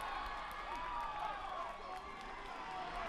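A rugby stadium crowd at a Utah versus Glendale MLR match roars and cheers for a local player, a steady wash of broad crowd noise with a commentator talking over it.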